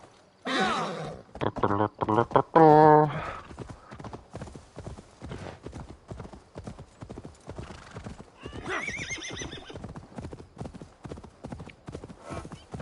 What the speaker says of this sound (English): And now my horse can swim.